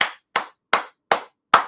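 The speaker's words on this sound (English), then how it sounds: "Give yourself a hand clap." Five sharp hand claps, evenly spaced about a third of a second apart, ring out loud and close with silence between them.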